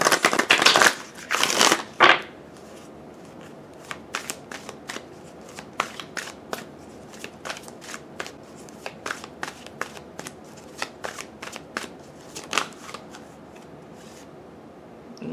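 Oracle cards being shuffled by hand during a tarot reading, with a dense riffling flurry up front followed by many short, crisp card flicks and slaps at irregular intervals, close and fairly quiet, with no talking.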